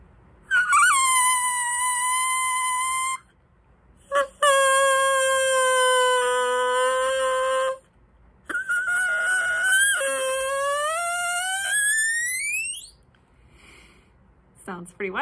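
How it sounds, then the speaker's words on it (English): Drinking straw cut into a reed and blown, then shortened, giving loud buzzy honking tones that bend and rise in pitch, several blasts separated by short pauses. "Let's see what happens to the sound and see if it sounds different."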